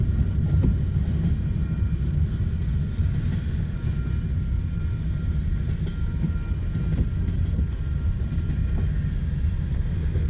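A Conrail westbound manifest freight train carrying I-beams rumbles past at close range, a heavy, continuous low roar with faint rhythmic wheel clatter, steady throughout and without talk.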